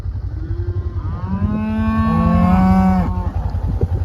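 Cattle in a dry Kansas paddock give one long, loud, close moo that rises and falls over a few seconds, with a shorter grunt at its start, over wind noise and no talking.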